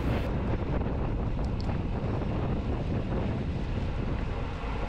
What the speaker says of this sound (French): Il faut savoir qu'il y a vent devant droit.